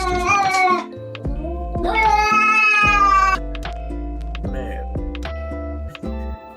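Several cats meow in a home, with a long, drawn-out high yowl in the middle and shorter meows around it; close and loud, mixed with background music or voice.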